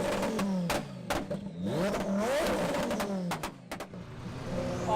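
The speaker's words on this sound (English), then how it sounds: "they're holding their phones out to record him just revving his car" A car engine revving hard at a car show, with repeated throttle blips that climb and fall in pitch, loud and close, and sharp clicks and bangs between the revs.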